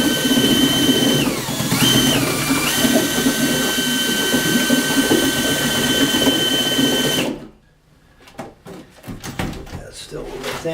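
A mechanical mixer whirs steadily through a batch of self-leveling floor compound, its pitch dipping briefly under load before it stops, leaving quieter scraping and handling noises.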